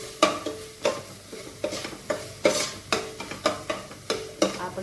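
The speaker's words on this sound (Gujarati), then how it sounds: "હવે સારી રીતે આપણા મસાલાઓ આપણે ચડે ત્યાં સુધી 1 મિનિટ પૂરતા હલાવી" Turmeric and other spices cook in a pan for batata poha while a spoon stirs them in regular scraping strokes, about two per second, over a soft sizzle. The sound is close and clear.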